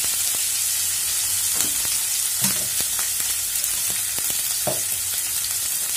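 Onions frying with curry leaves in a hot pan make a loud continuous sizzle, broken by occasional stirring clicks and scrapes, close up and without talk.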